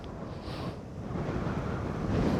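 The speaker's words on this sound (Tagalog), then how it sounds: "Lakas ng hangin." Strong wind gusting across an open scenic viewpoint in Tagaytay, a broad continuous roar buffeting the microphone and rising slightly toward the end.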